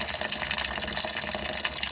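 Steady broadband rush of about three litres of boiling water pouring from close by into a Coopers Lager home-brew kit, a continuous splashing flow with no pauses.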